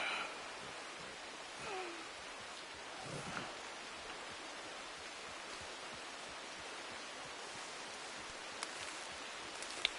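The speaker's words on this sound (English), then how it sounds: "Come on, we gotta get you out of the rain." Steady rain falls in the open-world game Red Dead Redemption 2, a constant broadband hiss of downpour that holds at an even level throughout, with a few faint sharper ticks and no voices.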